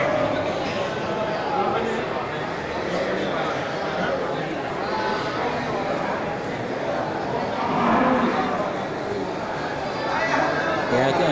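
A huge Simmental bull of about one ton, raised on a fattening farm in Awi Kedah village, lows amid a busy outdoor crowd, with people talking throughout.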